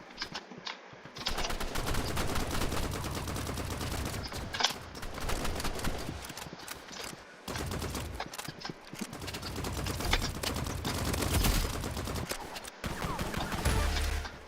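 Rapid assault rifle gunfire in the video game Rivals, dense sustained bursts with brief pauses, loud and close throughout.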